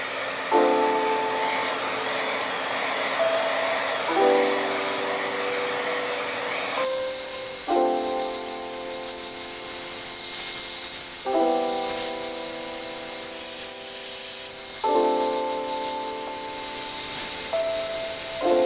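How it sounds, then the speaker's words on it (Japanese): Hair dryer blowing steadily over a wood repair while finish is sprayed on, a continuous broad whoosh with short repeated spray bursts layered over it, close and fairly loud. "次にマスキングテープの逆側をドライヤーを当てながらスプレー振ってみたいと思います。"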